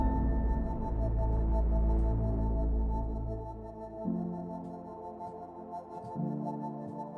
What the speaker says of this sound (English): This preset Lo-Fi Tremolo, I think, sounds pretty good on it.